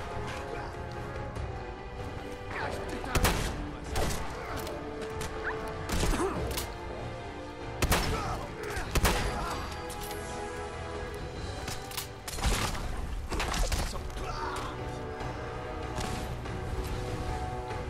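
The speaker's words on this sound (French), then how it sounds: "Il s'amuse bien avec les grenades" Grenade explosions in the video game Fallout 4, sharp booming blasts scattered irregularly through the clip over a busy background of game clatter and effects.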